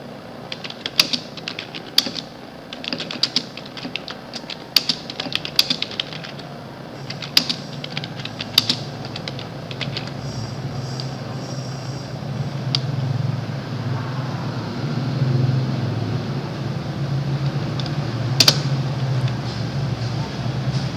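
Keyboard keys are tapped in quick bursts while text is typed into a Linux Fedora editor, crisp clicks close by over a steady low mechanical hum that grows louder later, with a faint voice.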